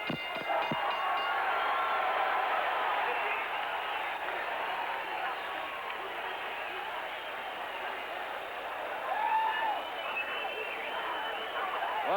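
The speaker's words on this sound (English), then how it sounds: "a standing crowd showing their appreciation of the effort of 2 well-conditioned heavyweights over the scheduled 12-round distance" A standing crowd at a heavyweight boxing arena applauds and cheers steadily after a twelve-round fight, a dense roar of clapping and voices that fills the whole stretch, with a commentator's voice over it.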